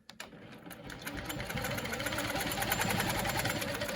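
A sewing machine runs steadily while stitching a quilt guided by a curvy ruler, its fast motor hum and needle chatter starting after a brief pause and holding close and continuous with no talk.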